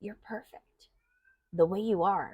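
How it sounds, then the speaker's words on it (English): A pet cat lets out a drawn-out, wavering meow right after someone speaks a short phrase, the cry close and clear in a quiet room. "That's my cat in the background."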